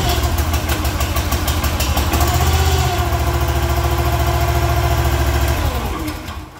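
The gas engine on a Ruggedmade 28T log splitter runs steadily nearby with a smooth mid-pitched hum, then winds down and cuts off near the end.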